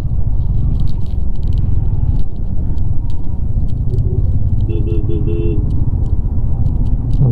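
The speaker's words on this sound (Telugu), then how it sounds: "ఇక్కడైతే ట్రాఫిక్ జామ్ అయిపోయింది." Idling traffic stuck in a jam on a slushy Ladakh mountain road, a low engine rumble steady throughout with scattered clicks and a short high horn-like tone midway.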